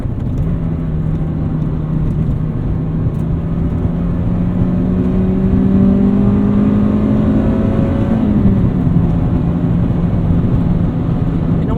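A 1995 Acura Integra GSR pulls hard out of corners, its engine note climbing steadily in pitch, dipping briefly at a shift, then rising again under a constant loud road and cabin roar, with no one speaking.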